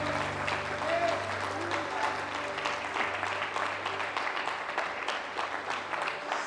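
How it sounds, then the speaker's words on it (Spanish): A church congregation claps together in an offering of applause during a service, sustained and even, with many hands heard at moderate distance in a reverberant hall and a low hum beneath. "Vamos a ofrecer una ofrenda de palmas."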